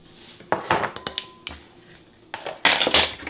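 A utensil scrapes and clinks in a bowl while icing for a small gingerbread house is mixed, giving uneven bursts of scraping and clattering taps, close and loud, with brief pauses between strokes.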